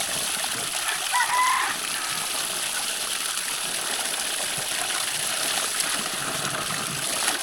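Clear water flowing steadily from a spring-fed water source in a remote forest village, a continuous broadband rush with a faint chirp near the start and no talking.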